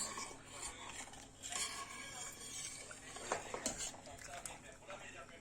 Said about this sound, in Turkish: Böyle pişen togamızı, kaynamış olan togamızı karıştırıyoruz